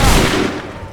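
A massed musket volley in Assassin's Creed III cracks out loud and close, one dense burst with a rough rolling tail that fades quickly.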